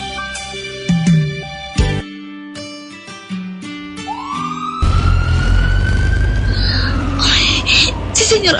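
An ambulance siren wails loudly and steadily, rising and falling, after a stretch of dramatic music.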